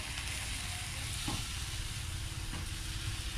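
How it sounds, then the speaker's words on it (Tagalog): Takoyaki batter sizzles in a pan over a high flame, a soft, steady frying hiss with no voices. "Masyado yung ating apoy kasi kumukulo."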